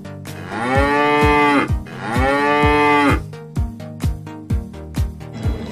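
Two long, loud, wavering moos from a water buffalo, close by, followed by a series of short rhythmic knocking sounds.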